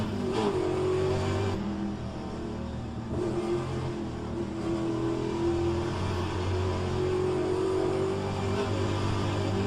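A light, small-engined car in a racing video game: a steady, loud engine drone that rises and falls in pitch as it revs, heard alone without talk.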